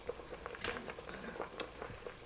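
Vegetables simmering in liquid in a pot, a soft, close bubbling and popping patter with irregular small bursts, quiet and continuous.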